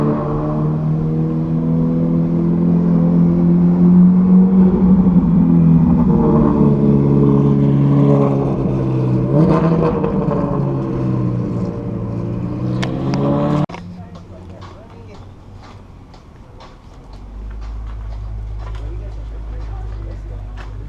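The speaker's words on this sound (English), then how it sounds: "Another Ferrari, I believe, by the sound. Yep, 458." A Ferrari 458 on a racing track in Las Vegas roars in loud and close, its engine note swelling and rising in pitch before cutting off abruptly, leaving a lower, quieter rumble and background hum.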